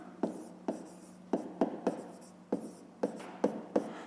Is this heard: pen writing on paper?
yes